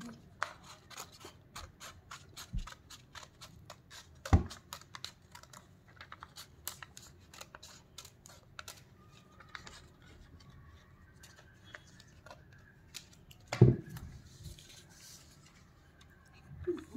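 Scissors snip through paper for making finger puppets, a long series of quiet, sharp clicks and cuts in an irregular rhythm with a few louder handling knocks, heard close in a quiet room.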